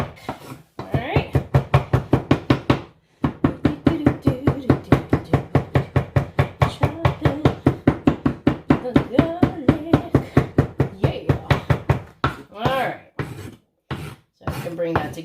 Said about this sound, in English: Chopping the garlic.